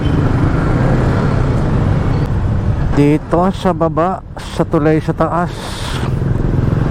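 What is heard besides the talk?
road traffic heard from a motorcycle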